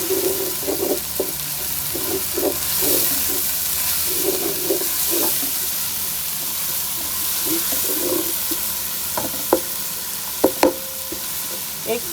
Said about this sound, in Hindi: एक से 2 मिनट तक फ्राई करेंगे बस इसको